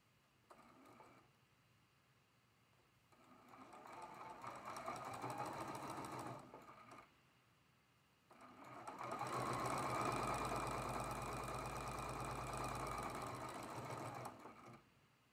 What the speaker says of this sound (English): We're going to go ahead and sew this first seam.